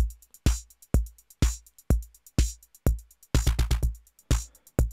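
A drum loop pushed through Culture Vulture saturation distortion on a P2-type preset at about 40% mix, punchy hits in a steady beat with squashed, fluttery crunch and a quick burst of rapid hits near the end, no voice.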